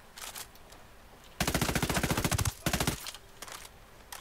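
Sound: gunfire in video game Ghost Recon Wildlands

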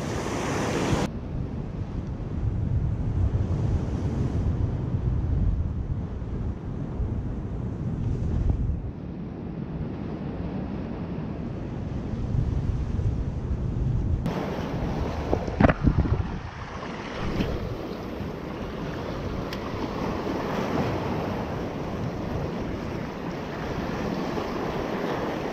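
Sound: rough sea waves on the shore

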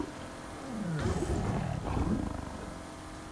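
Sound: tiger roaring in a video game

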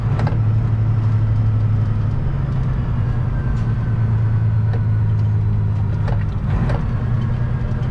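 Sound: 13-speed truck downshifting with rev matching

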